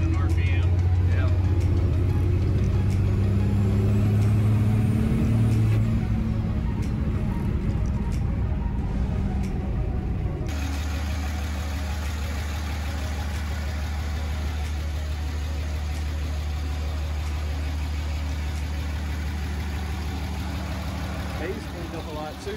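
A car with a D&J Powerplant engine drives at low RPM, a deep, rumbling drone that shifts into a lower steady throb partway through, with talking heard over the engine.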